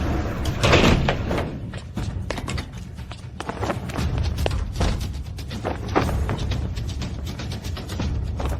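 A door being opened indoors, with repeated mechanical clicks, rattles and a heavier thud near the start, followed by a string of sharp latch-like knocks at moderate loudness, with no talking.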